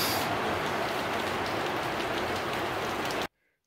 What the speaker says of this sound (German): Jetzt regnet es richtig stark.